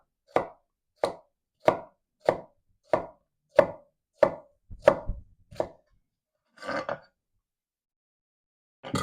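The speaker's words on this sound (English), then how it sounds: "And then you're going to slice this way without going to the root, so the root actually holds the onion together" A knife slices through an onion on a cutting board, close and crisp: about nine evenly spaced cuts in a steady rhythm, then a softer, scruffier pair of strokes, with no talking.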